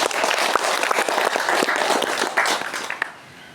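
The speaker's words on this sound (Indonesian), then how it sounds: "Tepuk tangan." Applause from a crowd at a gathering at a Balinese temple, a dense burst of clapping with some louder individual claps that drops away sharply near the end.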